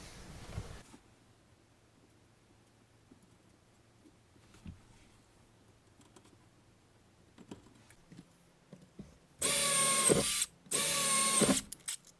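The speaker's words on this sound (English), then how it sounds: "Then I can do the drilling" A quiet stretch of faint clicks and handling noises gives way to two loud bursts of a power drill whirring close up, drilling bolt holes in a Land Rover Defender 90 rear, separated by a brief pause.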